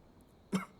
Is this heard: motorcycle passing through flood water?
no